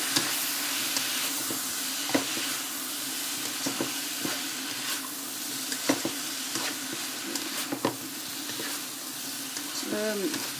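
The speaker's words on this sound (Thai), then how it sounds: "ก็ผัดคลุกเคล้าให้เข้ากัน" Mushrooms stir-fried with seasoning sauce in a pan, giving a steady sizzle and hiss with scattered scraping clicks from stirring, plus a brief voice near the end.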